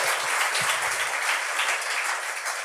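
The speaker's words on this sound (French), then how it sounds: "Oui, vous pouvez l'applaudir." Studio audience at a French-language talent show claps for a performer, a loud, dense burst of applause holding steady from start to finish.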